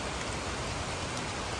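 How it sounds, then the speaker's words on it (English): Steady tropical rain pours in a rainforest park in Kuala Lumpur, an even, dense hiss of drops on leaves and ground with no voices. "it's beautiful tropical rain"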